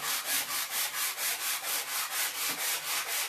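Even, rapid strokes of sandpaper rubbing a wooden block, close and continuous, about three strokes per second with no voices.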